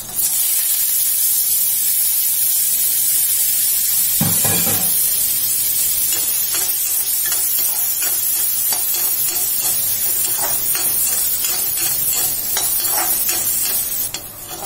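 Coconut and urad dal roast in a pan for curry leaf chutney, giving a steady close sizzling hiss with repeated scraping stirs throughout and no talking.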